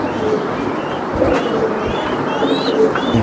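Racing pigeons cooing at a breeder's stall, several soft, warbling coos close by over a busy background hum.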